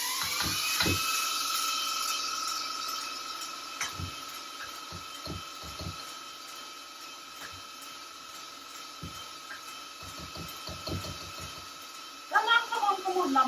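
An electric mixer whips egg whites toward stiff peaks, giving a steady high whir throughout with scattered knocks of the beaters against the bowl, fairly faint, and a person speaks briefly near the end.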